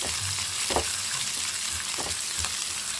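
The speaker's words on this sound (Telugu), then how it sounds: "కొంచెం అంటే రెండు అల్లం వెల్లుల్లి రెబ్బలు దంచుకొని వేసుకున్నాం" Crushed ginger and garlic cloves fry in a hot pan with a steady, close sizzle and a few soft stirring scrapes, and no one talks.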